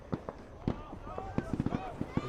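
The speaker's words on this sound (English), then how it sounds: "the fireworks continue" Fireworks popping and cracking during a UPSL Premier soccer match, a scatter of sharp irregular bangs, some clustered quickly together, over continuous crowd and commentary talk.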